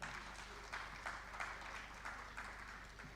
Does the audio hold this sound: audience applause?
yes